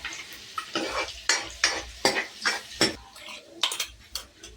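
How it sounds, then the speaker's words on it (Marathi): Crushed garlic frying in oil with mustard seeds and cumin, with repeated metal scraping and clinking of a spoon against the pan over a low sizzle, about eight distinct strokes in a steady rhythm, close and fairly loud. "लसूण चांगला तळून घ्यायचा।"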